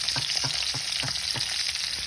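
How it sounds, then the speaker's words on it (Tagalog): Split dried fish frying in a pan of oil, a bright continuous sizzle with a quick regular pulse of stirring beneath it, close and steady. "Ato na nang ibutang atong buwad nga pinikas."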